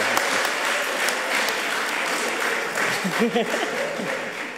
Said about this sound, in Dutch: Geef hem even een applaus